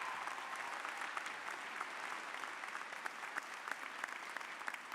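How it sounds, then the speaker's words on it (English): A graduation ceremony crowd gives sustained, dense applause, a steady wash of many hands clapping at a distance with no voices on top. "Give yourselves a round of applause."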